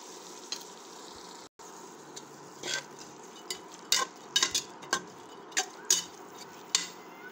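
Cut carrots tipped into a cooking pot while making vegetable biryani, a run of light clinks and scraping stirs against the pot over a soft background hiss, with sharp knocks growing more frequent toward the end.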